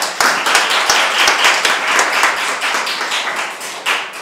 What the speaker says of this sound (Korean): 뭐해 박수 안 치고. 박수.